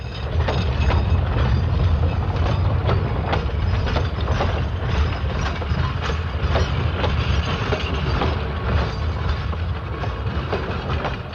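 Freight train 406 on the main line: a steady, loud rumble with continuous clickety-clack of wheels over rail joints, heard close and without a break.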